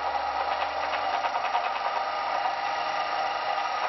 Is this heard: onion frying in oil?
no